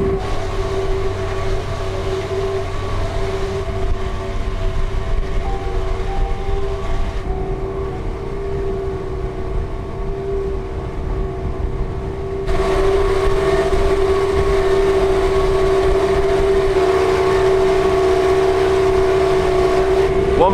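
Catamaran engines run at low revs while cruising slowly, giving a loud, steady droning rumble with a constant tonal whine that persists with no pause.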